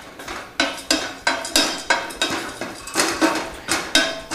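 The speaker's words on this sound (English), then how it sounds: "I'm working with my pan on a medium-high heat here, and I'm keeping the almonds moving quickly so they toast evenly" Almonds rattling and scraping in a pan over medium-high heat, stirred in quick regular strokes, each stroke a sharp metallic sweep repeating about twice a second, close and clear.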